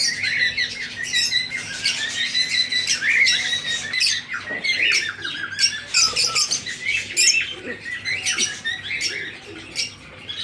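Pet birds in a cage chirp, squawk and tweet busily in a dense, steady chorus, with occasional wing flaps and shuffling as they hop about on a perch, fairly close and continuous throughout.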